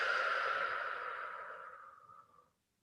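A long, slow exhale of deep breathing during a guided yoga lesson, a single breathy whoosh that fades gradually over about two and a half seconds before silence, close and soft.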